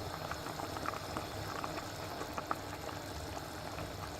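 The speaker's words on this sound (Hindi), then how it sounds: "साग हमारा इस टाइम उबल चुका है।" Saag spinach greens boil in a pot on a stove with a steady, faint bubbling simmer and scattered small pops throughout, close and without talk.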